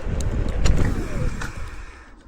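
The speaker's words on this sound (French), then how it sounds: "on est à 25 et on va faire un petit freinage d'urgence dans 3, 2, 1" A Dualtron Togo Plus electric scooter brakes hard from 25 km/h, giving a short burst of rushing tyre and road noise with a faint squeal. The noise fades over a couple of seconds as the scooter stops.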